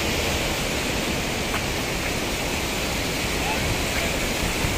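Water flows steadily at a spring in Kalam valley, Swat, giving a constant dense rushing wash with no breaks, fairly loud and close.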